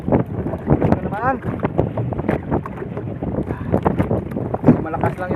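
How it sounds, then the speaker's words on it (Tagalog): Strong wind buffets the microphone over choppy sea and boat noise beside a fish corral, with a voice speaking through the gusts. "Malakas lang yung hangin at saka maalo na."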